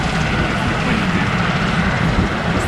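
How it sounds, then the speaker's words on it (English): A yellow Westland Sea King rescue helicopter flies at an air show, producing a steady, loud, broadband roar of rotor and engine that holds without a break. "huge yellow shape of the Sea King helicopter"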